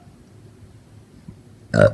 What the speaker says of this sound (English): I have to burp.